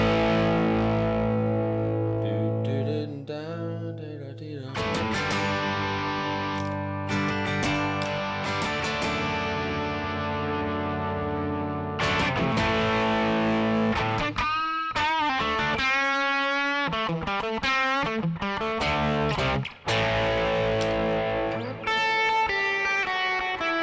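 An electric guitar with heavy distortion through a Kemper Player plays loud, continuous riffs, chords and bending lead lines for over twenty seconds, with only a brief gap near the end.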